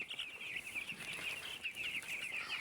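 Many chickens on a poultry farm of about seven hundred birds, crowded close together in cool weather, make a continuous dense clucking chorus, with bursts of calls rising over the steady flock noise.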